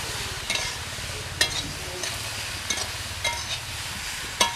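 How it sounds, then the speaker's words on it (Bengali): Soybean chunks and potatoes fry in a spice paste in a pan, giving a steady sizzle. A spoon scrapes and stirs through it in several sharp strokes, close and clear, with no talking. "সয়াবিনটা দিয়েও একটু ভালো করে কষিয়ে নিচ্ছি।"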